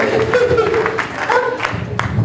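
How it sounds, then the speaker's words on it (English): At a graduation party, a small audience claps for a woman, a brief spell of rhythmic clapping with voices mixed in. "Let's clap for her."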